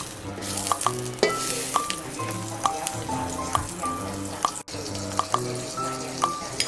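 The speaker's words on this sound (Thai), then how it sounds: "ตั้งกระทะนะคะใส่น้ำมันลงไปเล็กน้อยค่ะ แล้วก็ใส่เนยสดรสจืดลงไปค่ะ" Unsalted butter sizzles and fries steadily in a pan with a little oil while a utensil clinks and scrapes against it in irregular taps.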